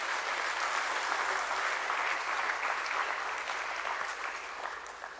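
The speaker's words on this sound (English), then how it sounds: "Let's welcome them all with a nice round of applause." Sustained applause from the audience at a stock exchange listing ceremony for a small finance bank, a steady dense wash of many hands clapping that fades slightly toward the end.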